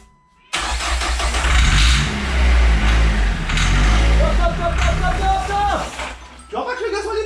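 A diesel car engine mounted on a pallet outside the car fires up suddenly and runs loudly with a rough, throbbing idle, then revs briefly near the end, while people talk nearby.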